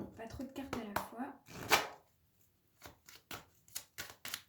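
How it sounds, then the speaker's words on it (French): A deck of playing cards tapped against a tabletop makes a run of sharp, separate knocks in the second half, after a stretch of close talking mixed with card handling. "quand je tape sur la table comme ça avec les cartes, ça doit faire bouger le trépied."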